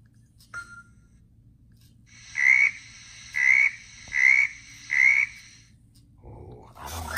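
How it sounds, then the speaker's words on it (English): A smart speaker plays a frog's croaking: four evenly spaced, loud croaks about a second apart, each a raspy pulsed call standing alone against a quiet background, ending in a brief burst of noise. "Alexa, what sound does a frog make?"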